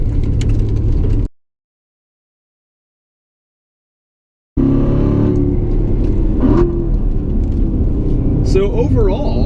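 A Chevrolet Corvette Z51 engine revs and pulls hard around a figure-eight course, a loud mid-range drone with a sudden drop to silence before the engine sound resumes and someone briefly talks over it.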